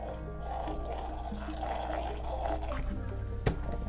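Water pours steadily into bentonite clay powder, a soft continuous trickle close by with a small knock near the end.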